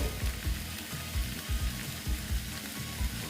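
Snake gourd (chichinga) curry sizzling and frying in a pan, a steady close crackle with soft rhythmic stirring thumps throughout, no voices.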